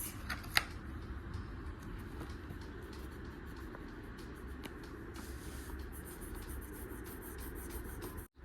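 Pencil colours scratch steadily across paper as a child colours from a new colouring kit, close and continuous strokes for about eight seconds.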